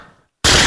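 On a televised mimicry contest, a voice imitates a single shotgun blast: a sudden, loud, close burst after a brief silence.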